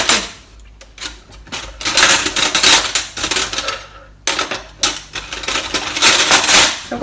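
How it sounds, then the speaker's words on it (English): A big spoon mixes couscous salad in a bowl, making a busy clattering and scraping in quick uneven bursts with short pauses, close and fairly loud, with no talking. "So now I've got to get a big spoon and give it a good mix."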